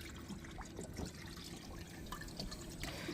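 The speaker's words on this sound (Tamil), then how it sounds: "எவ்வளோ அமைதியாக இருக்கிற மாதிரி இருக்குல்ல கடல்" Faint, gentle lapping and dripping of calm sea water beside a fishing boat, soft irregular splashes continuing quietly without speech.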